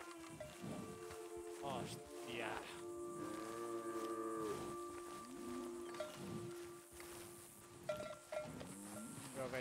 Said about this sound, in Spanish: Son las vacas de...